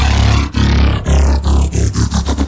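A Serum synth patch built for a hardwave track, its LFO sweeping so the modulation rate slows and speeds up, forming a loud, growling, roar-like drone with rhythmic pulses and a falling filter sweep, heard alone without talk.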